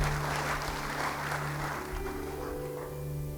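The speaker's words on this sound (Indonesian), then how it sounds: "Yang mau beri tepuk tangan bagi dia." A church congregation applauds in a sustained wash of clapping that runs the full few seconds, fairly loud and even, with a low steady hum underneath.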